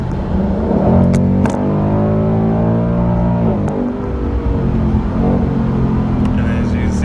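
A 2018 Ford Mustang GT Premium with active exhaust makes a quick pull, its engine climbing in loud, throaty revs close by through several gear changes, the pitch dropping between shifts.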